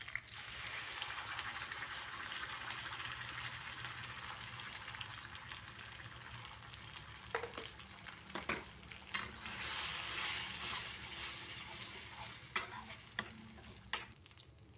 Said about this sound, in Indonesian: ini kita masak dulu sampai ikannya berubah warna sama bumbunya seperti ini